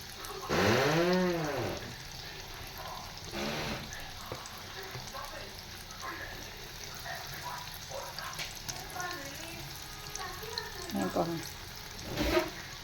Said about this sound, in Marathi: छान अशा अळूवड्या फ्राय करून आपण घेतलो आहे